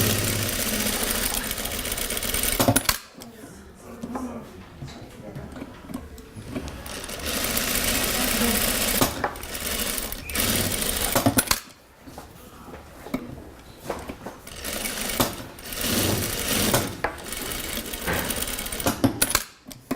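An industrial sewing machine stitches in several bursts of rapid mechanical whirring, loud and close, separated by short pauses, with no one speaking.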